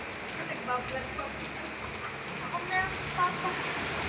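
Rain falling outdoors, a steady soft patter and hiss of drops on surfaces, continuous and moderately close, with faint voices underneath.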